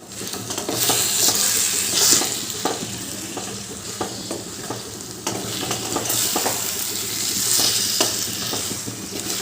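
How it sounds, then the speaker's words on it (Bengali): Marinated chicken with lemon leaves being stir-fried in a pan, a loud steady sizzle of hot oil with regular scraping strokes of the spatula, close up and without speech. "এবার সব কিছু ভালো করে কষিয়ে নেব"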